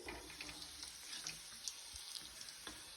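Non-veg garelu fry slowly in oil over a low flame, giving a steady, close soft sizzle with small crackles and pops throughout and no talking.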